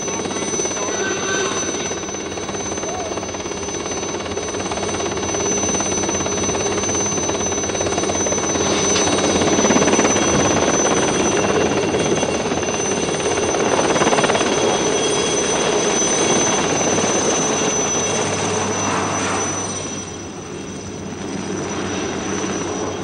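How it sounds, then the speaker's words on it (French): A continuous electric fire alarm bell rings loudly and steadily throughout a fire drill, with a brief dip near the end, over a broad wash of background noise. "Exercice, alarme, incendie."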